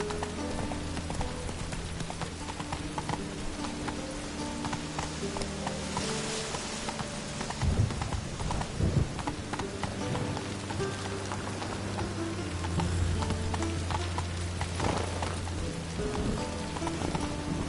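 Steady rain patters across the whole stretch in The Witcher 3: Wild Hunt, a soft continuous hiss with horse hooves clip-clopping beneath it and faint game music in the background.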